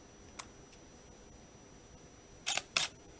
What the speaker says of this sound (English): there you heard the shutter release